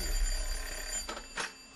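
A telephone rings in a domestic drama scene, two short bursts of ringing close by with no talk over them.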